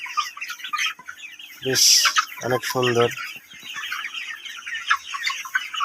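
Chickens on a well-kept poultry farm cluck in a steady background chorus, with a person speaking briefly over them partway through.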